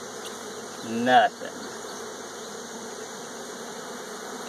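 Honey bees from a small, queenless colony of ageing bees hum in a steady, faint drone, with one closer, louder buzz passing briefly near the start; no talking.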